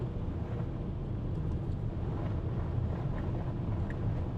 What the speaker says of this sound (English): Wind is blowing us off the road.